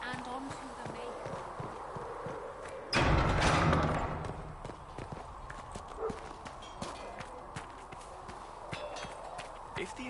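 Horse hooves clip-clopping in the video game Dragon Age Inquisition, a steady walking rhythm of close hoof beats with a brief heavy thump early on and faint voices in the background.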